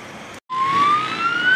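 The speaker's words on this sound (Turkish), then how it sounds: "Evet, itfaiye de geçiyor şu an." A fire engine siren passes close and loud on a street near a blaze on university land in Turkey, with its rising wail sweeping upward over steady traffic rumble.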